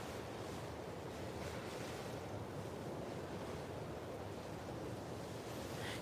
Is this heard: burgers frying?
no